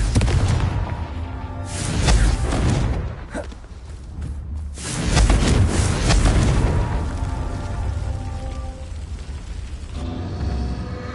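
Big booming blasts from a Confringo spell in a Harry Potter video game, two heavy explosive surges with rumbling tails, and the noise stays loud and dense throughout.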